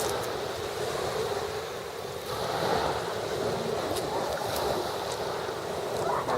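Sea waves wash onto a beach with steady broadband surf noise and some wind rumble, continuous and fairly distant, with no talking.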